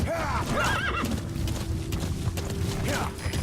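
A horse in the game Metal Gear Solid V whinnies loudly in rising and falling calls over a steady rhythm of hoofbeats, with someone talking and a low engine-like drone underneath.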